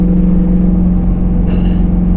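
A Corvette V8-swapped Miata making 500 horsepower drives at night, heard from inside the cabin as a loud, steady low engine drone with a strong humming tone throughout.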